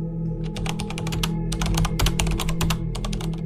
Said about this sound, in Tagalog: madidinig mo talaga na may nagtatype at nagkiklik ng mouse pero wala namang tao